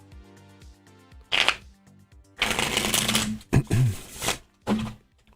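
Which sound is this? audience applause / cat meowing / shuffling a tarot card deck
shuffling a tarot card deck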